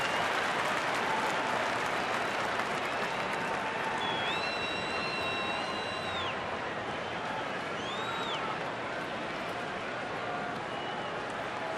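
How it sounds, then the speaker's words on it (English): A sellout baseball crowd at Miller Park in Milwaukee keeps up a dense, loud roar of cheering and clapping, with a few sharp whistles rising above it. "A sellout crowd at Miller Park, ready to roar if Fielder can deliver."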